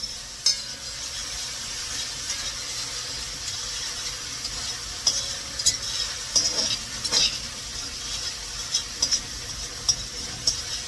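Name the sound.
stirring seasoning with pimento and thyme in a pot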